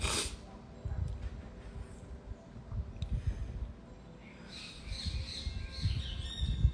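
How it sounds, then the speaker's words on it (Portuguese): Small birds chirp and tweet at a quiet distance under an outdoor morning broadcast, with brief high calls clustering toward the end over low background rumble; a person speaks nearby. "Até os passarinhos vieram dar força."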